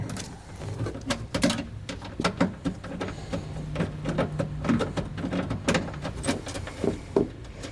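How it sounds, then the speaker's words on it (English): A bolt is loosened with an 8mm socket at a factory ground point on a 2020 Ford Transit, giving close, irregular ratcheting clicks and metallic clunks over several seconds. "We're going to remove that bolt using an 8mm socket."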